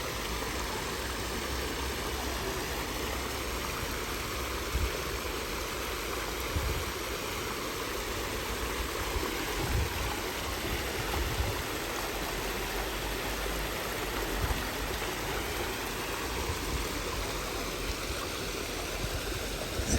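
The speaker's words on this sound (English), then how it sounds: "so you can just enjoy the trickle of the water" Water trickles and flows steadily beside a river in the United Kingdom, a soft continuous wash at an even level with faint distant background noise and no talking.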